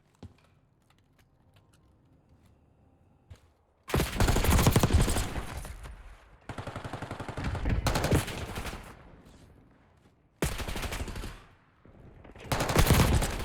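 Heavy bursts of automatic gunfire from a Call of Duty match, several loud sustained volleys separated by short lulls, with no talk over the shooting.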